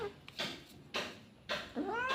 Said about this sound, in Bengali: আমার আর একটা শখের বিড়াল